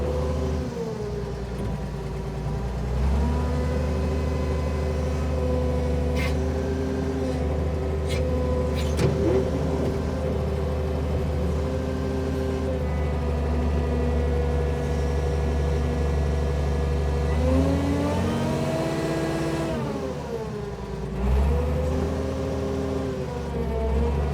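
A crane's diesel engine runs steadily at a loud, close, constant drone while hoisting a heavy load of about 18,000 pounds, with brief rises in pitch as it labours and no talk.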